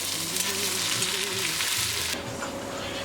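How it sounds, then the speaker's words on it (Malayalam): Fenugreek seeds, dried red chillies and sliced shallots crackle in hot oil for an erissery tempering, a loud close sizzle that drops to a softer fry partway through, with no one talking. "ചെറിയ ഉള്ളി ഒരു 3 എണ്ണം ചെറുതായിട്ട് അരിഞ്ഞത് ഇട്ട് കൊടുക്കാം."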